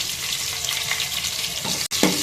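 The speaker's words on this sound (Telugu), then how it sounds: "నూనె వేడిగానే పోపు గింజలు అయితే యాడ్ చేసుకోవాలి." Tempering seeds, crushed garlic and dried red chillies sizzle and crackle in hot oil in a pan while dal is being made, a steady close frying hiss with a brief drop near the end and no voices.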